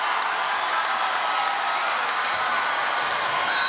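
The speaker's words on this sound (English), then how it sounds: "their crowd is nuts right now" A loud basketball crowd at a high school game roars and cheers without a break, a dense wall of voices filling the whole stretch.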